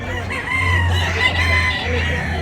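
A rooster at a Tabunok, Cebu market crows loudly and close in one drawn-out call, with clucking from nearby fowl.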